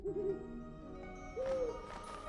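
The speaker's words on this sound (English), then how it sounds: "The bird Hedwig has dropped off a parcel for us." The snowy owl Hedwig hooting in a Harry Potter video game, two clear tonal hoots, a short one at the start and a longer one midway, over a soft music bed.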